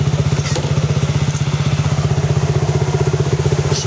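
A motorcycle engine idles in neutral, close and loud, with a steady, fast, even putter that runs on alone without pause.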